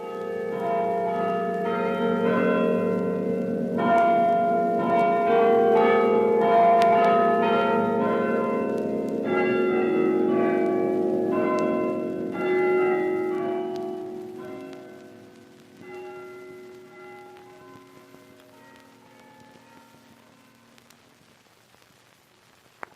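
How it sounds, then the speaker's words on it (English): Old church bells in a historic Boston steeple ring out in overlapping, sustained tones, loud and resonant at first, then gradually dying away into a fading hum. "still in use today, are the old bells which rang out in 1781 with the joyous news of Cornwallis's surrender at Yorktown"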